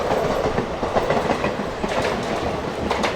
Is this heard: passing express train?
yes